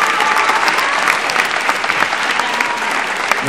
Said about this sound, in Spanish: más buenos aplausos.